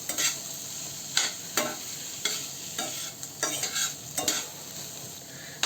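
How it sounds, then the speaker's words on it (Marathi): Potato pieces and cluster beans sizzle in a hot pan while a spatula scrapes and stirs them in repeated irregular strokes, close and clear with no talking. "बटाटा परतून घेऊ।"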